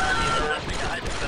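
Blaster gunfire in Star Wars Republic Commando, a dense burst of rapid shots mixed with game sounds and a voice talking over it.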